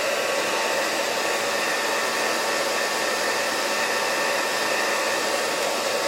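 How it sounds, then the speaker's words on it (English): Handheld blow dryer aimed at eyelashes during makeup, a continuous loud steady whoosh of air and motor whine, close and alone. "we're going to blow dry these lashes real quick."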